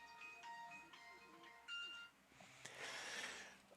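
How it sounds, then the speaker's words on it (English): A beeping alarm goes off in a room, its tonal pulses repeating for the first couple of seconds before being cut off, followed by rustling noise and someone speaking over it. "That's my alarm."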